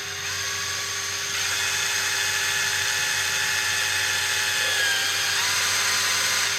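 A high, steady whine from a power drill boring into Mizuno soccer boots runs continuously and loud at close range, with a slight rise in pitch partway through.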